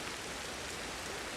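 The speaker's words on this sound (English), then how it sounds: "we've got this rain right now that is making it even harder to hear the chime" Rain in the game Ancestors falls as a faint, even hiss with no distinct drops and no voices.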